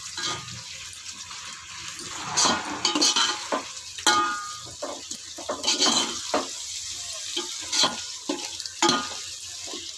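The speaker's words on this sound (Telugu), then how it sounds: "బాగా వేయించుకోవాలి కొత్తిమీర పొదిన అయితే వేగాయి" Chopped coriander and mint frying in a pan while being stirred for a vegetable biryani, steady sizzle broken by repeated scraping strokes of the spoon and occasional clinks, with no talking.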